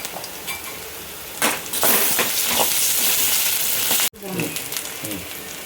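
Onions frying with ginger-garlic paste for a chicken gravy, a loud steady sizzle with occasional stirring clinks, briefly cut off then resuming quieter.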